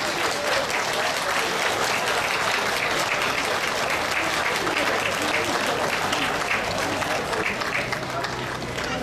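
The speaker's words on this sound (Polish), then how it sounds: "Państwo nie szczędzą oklasku" Spectators applaud steadily at the finish line in Żary of the Bałtyk–Karkonosze cycling race, a dense, loud, continuous clapping throughout with a commentator talking over it.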